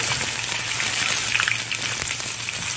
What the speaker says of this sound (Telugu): కొద్దిగా కరివేపాకు వేసుకుని ఇలా వేడి నూనెలో వేయించుకుంటే